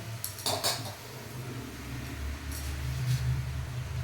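Greens such as chickpea leaves and spinach are stirred in a pot, with a few quick metallic clanks and scrapes of a utensil near the start, then a softer steady cooking hiss.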